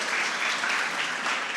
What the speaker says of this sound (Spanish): Un aplauso para el pastor Miguel, por favor.